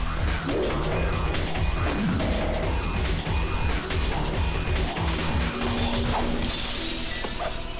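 Glass shatters during a fight in the video game Devil May Cry in a dense, loud crashing spray amid a busy mix of game effects and music.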